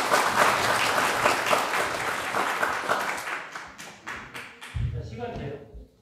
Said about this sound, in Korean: 자, 그럼 맨 먼저 김복덕, 연정아님을 박수로.